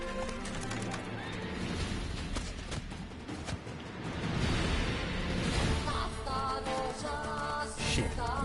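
Roach, the horse in The Witcher III, gallops steadily with rhythmic clip-clop hoofbeats under a busy game soundscape of music and effects, with a brief whinny mixed in.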